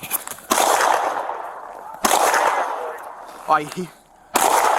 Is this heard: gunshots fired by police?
yes